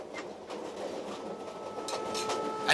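Royal Orient metre gauge train running through Rajasthan, a steady rumbling ride with light rhythmic clicking and rattles of the carriage, heard from inside at moderate level with no talk.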